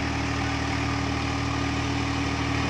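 Swaraj 744 XT tractor engine running steadily with a rotavator during paddy-field puddling, a loud continuous low drone with a constant hum and no talk.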